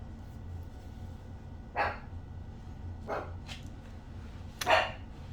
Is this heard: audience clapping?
no